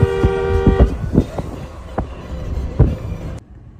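Railway noise at the Palitana railway crossing, with steady tonal horn bands early on, then repeated rhythmic clunks of wagons rolling past nearby, ending abruptly.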